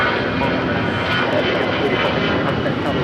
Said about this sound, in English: This is Avianca 525 taking off to San Salvador on an A320 in the Surf City, El Salvador livery